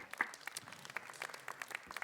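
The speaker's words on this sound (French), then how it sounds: "on les applaudit très fort" A small audience at the Opéra de Clermont-Ferrand applauds, a quick scattered patter of clapping hands, fairly faint and steady for a couple of seconds.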